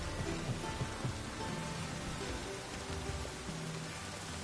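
Rain in The Witcher 3, a steady hiss of rainfall spattering on surfaces with scattered droplet taps, constant and moderately close throughout.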